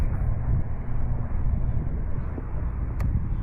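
A Hangar 9 P-47 Thunderbolt RC plane slows for landing, its engine a steady, loud, close drone that holds without a break.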